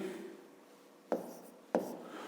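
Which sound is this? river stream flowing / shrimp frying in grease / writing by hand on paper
writing by hand on paper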